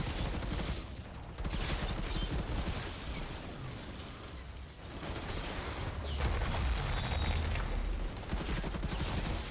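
Pistol shots ring out in the shooter game Outriders, a steady stream of fairly quiet rapid reports over continuous background game noise and effects, with no speech.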